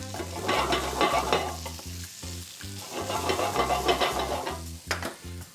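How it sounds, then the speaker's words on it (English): Asparagus sautéing in oil in a skillet, loud crackling sizzle swelling in waves with repeated stirring and tossing scrapes, no talking. "we're going to add a few more drops of oil in our asparagus and give them a quick saute for only about 2 minutes"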